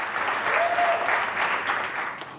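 A crowd claps steadily for NHS carers and key workers during the April 2020 coronavirus lockdown in Britain, a dense, continuous patter of many hands heard at a moderate distance with no talk.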